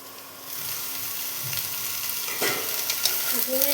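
Sliced ridge gourd fries in a pan, the sizzle swelling after a quiet start into a steady hiss with intermittent spatula scrapes and stirring knocks nearby.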